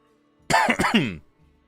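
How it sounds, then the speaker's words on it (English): A single harsh, throaty cough burst lasts under a second, loud and close, in an otherwise quiet room. "I cannot stop coughing right now"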